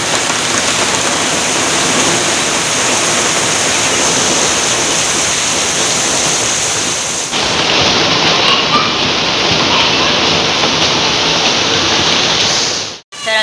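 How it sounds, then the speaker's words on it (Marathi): Heavy monsoon rain pours in a loud, dense, unbroken roar. Its texture shifts abruptly partway through and a short dip comes just before the end, with no speech. "तर असा मस्त पाऊस पडतोय"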